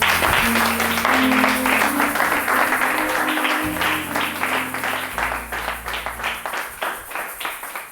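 A church congregation breaks into sustained applause and clapping during a French-language sermon by a pastor, a dense wash of hands that slowly thins and fades over several seconds, with low musical tones underneath.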